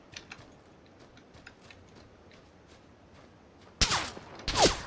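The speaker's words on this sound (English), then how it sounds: "Oh, there's somebody else shooting at me!" Gunfire in the PlayerUnknown's Battlegrounds battle royale game: scattered faint distant shots and ticks, then two loud close bursts of shooting near the end.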